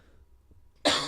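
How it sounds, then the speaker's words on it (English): A single sharp cough bursts out near the end, loud and close, after a near-silent room with a faint murmur just before. "Sorry about the coughing."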